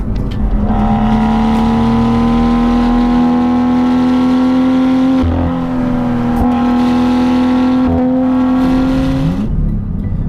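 A BMW M2 engine hums loudly and steadily from inside the car as it flows through corners, its tone holding even with small dips and shifts as the driver eases and reapplies throttle.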